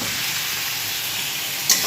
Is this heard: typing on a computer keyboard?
no